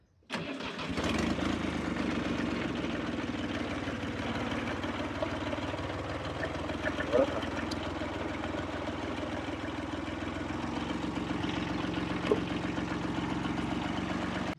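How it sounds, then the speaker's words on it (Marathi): A tractor engine catches on a cold start and then settles into a steady, loud, close idle that runs without a break, with a faint knocking rhythm. "आता ट्रॅक्टर कोल्ड स्टार्ट आहे."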